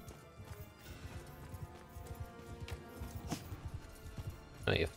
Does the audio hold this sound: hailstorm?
no